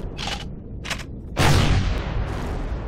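Turret gunfire in the space game Empyrion, two short, muffled bursts followed by a louder, booming blast that trails off into a lingering rumble.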